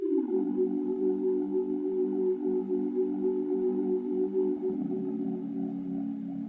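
A lo-fi piano treated with flange, phasing, a bandpass filter and RC20 vinyl coloring holds sustained, swirling chords with a thin, filtered tone, steady and close throughout, with no talking.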